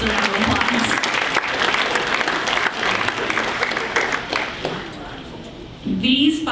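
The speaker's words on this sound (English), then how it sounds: "Give yourselves a round of applause." An audience at a fundraising gala claps together in a steady, busy applause that dips briefly near the end, then swells again as a voice begins speaking over it.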